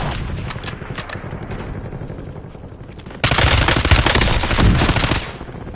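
Sustained machine gun fire in Call of Duty Warzone, a steady loud rattle of rapid bursts that grows heavier and denser partway through, with no talk over it.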